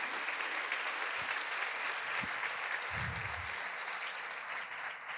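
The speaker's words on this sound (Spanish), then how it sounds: "toda la iglesia les brinda también este aplauso grande de bienvenida para ustedes" Sustained applause from a large church congregation filling the room, steady and moderately distant, with a couple of low thumps underneath.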